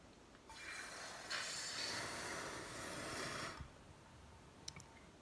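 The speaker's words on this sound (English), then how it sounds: "I'm going to quench it in water first. It's going to sizzle." A loud hissing sizzle bursts up as a hot silver ingot is quenched in water, holding for about three seconds, then cuts off, followed by a couple of small clinks.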